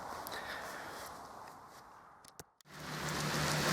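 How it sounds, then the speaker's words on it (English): Heavy rain pouring down outdoors in the town of Bradford-on-Avon, a steady broadband hiss throughout that briefly drops out near the end before returning louder and closer. "it is pouring with rain, and I'm getting very, very wet"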